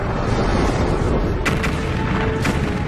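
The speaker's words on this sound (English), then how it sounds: "These explosions, known as supernovas, are the biggest blasts in the universe since the Big Bang" A deep, loud explosion sound effect stands in for a supernova in a space documentary: a sustained rumbling roar with a couple of sharper bursts partway through, and no voices.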